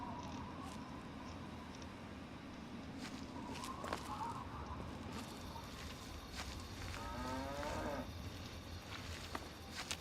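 Brahmin, the mutant two-headed cattle of the video game Fallout 3, low repeatedly over a steady outdoor game ambience, with one longer, clearer moo near the end standing out from the background wash.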